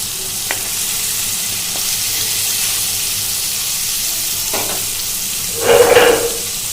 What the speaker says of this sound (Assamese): ইফালে মাছ ভাজি আছোঁ